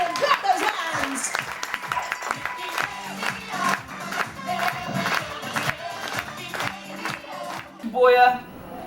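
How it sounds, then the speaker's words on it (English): Studio audience at a game show clapping along in a steady rhythm, with music and raised voices mixed over the beat, ending in a brief louder burst. "Clap those hands."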